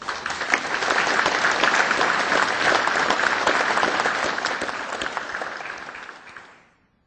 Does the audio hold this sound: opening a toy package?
no